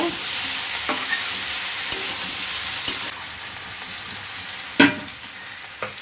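Taro, potato and shrimp curry is stir-fried in a pan, giving a loud continuous sizzle with occasional sharp clinks and scrapes of a spatula; no voices.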